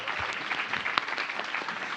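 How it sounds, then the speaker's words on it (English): Brief applause from an audience at a Library of Congress event, a soft, distant wash of clapping with a few sharper claps, moderately quiet. "Give big applause."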